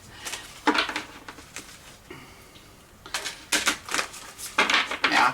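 Bursts of rapid papery riffling as a deck of tarot cards is shuffled, several short flurries separated by pauses, close and fairly loud with no talking.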